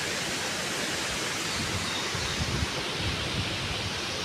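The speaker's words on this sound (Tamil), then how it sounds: "ஆற்றுல நிறைய தண்ணி நிறையா போகுது" A river running full with lots of water gives off a dense, steady rushing roar that stays even and unbroken throughout, with no voices over it.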